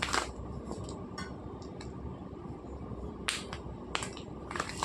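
Proso millet grains poured into a pan for dry roasting, giving a dense granular rustle and patter with a few sharper clicking bursts scattered through it, close and steady, with no talk.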